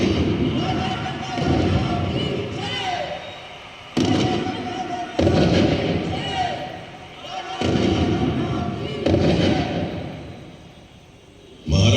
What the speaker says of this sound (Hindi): महाराज गंगाधर राव को कड़क बिजली और भवानी शंकर की तोपों से सलामी दी गई